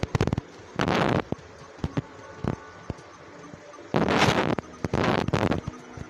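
A star gun in Terraria fires in several loud, bursting crackles: a quick cluster at the start, then separate shots, then two long blasts near the end, with no voices.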